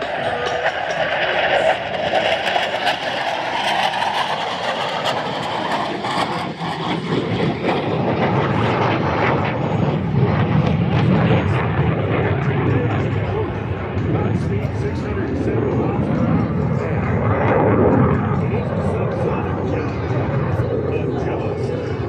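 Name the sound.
T-28 propeller airplane flying overhead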